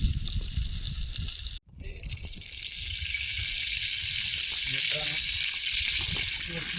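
Fish frying in a pan outdoors by a dam gives a steady, close sizzling hiss that cuts out briefly, then returns and holds, with a voice faintly under it.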